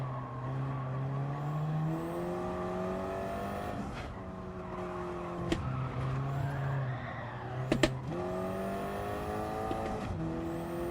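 A race car in a racing video game holds a steady, fluctuating engine drone as it slides around a corner, its pitch dipping and rising with gear changes, with brief sharp clicks near the end and no voices.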